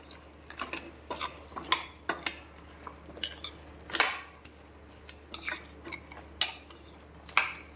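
A metal spoon stirs ground cumin and pepper spice mixture in a bowl for mutton bone soup, close up, with irregular clinks and scrapes against the sides at an uneven rhythm and no talking.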